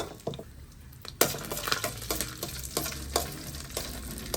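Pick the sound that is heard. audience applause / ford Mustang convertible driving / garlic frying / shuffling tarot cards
garlic frying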